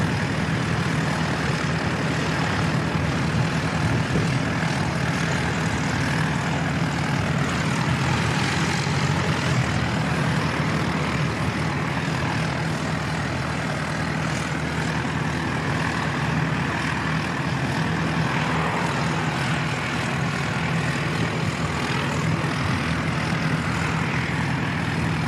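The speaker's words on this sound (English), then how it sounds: "The piston powered ATR about to come out." An ATR propeller aircraft taxiing out at Christchurch Airport, a constant droning engine and propeller hum with a steady low tone, unbroken and at moderate distance for the whole stretch.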